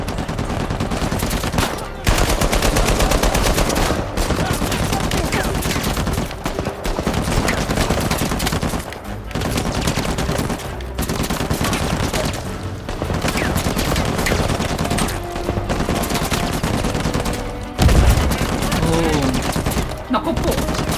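Dense, continuous gunfire from a firefight in Uncharted 4, played on a newly built PC: rapid automatic bursts and loud shots overlap with explosions for the whole stretch, with occasional voices in the mix.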